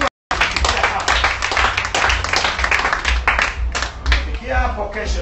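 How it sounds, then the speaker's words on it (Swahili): A church congregation breaks into loud, sustained clapping and applause for the Lord during a Bible study and prayer meeting, dense hand claps filling the room with a few voices mixed in throughout. "Bwana makofi makubwa."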